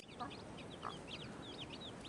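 Newly hatched chicks peeping at a farm hut, with faint, repeated high chirps scattered over a steady background hiss.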